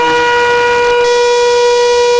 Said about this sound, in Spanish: Tequía, la explosión o el toque, que es un sonido claro extendido como de trompeta,